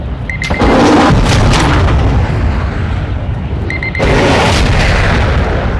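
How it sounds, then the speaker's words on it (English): A missile strikes and destroys an aircraft in the video game Warzone 2 DMZ, two loud heavy booms with long rumbling tails filling the whole stretch. "Positive impact. Aircraft destroyed."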